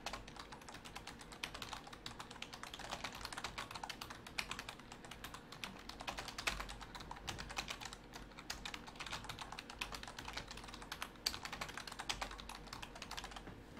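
Rapid, steady keystrokes on a computer keyboard during a fast-paced typing game, a dense continuous patter of clicks with no talking.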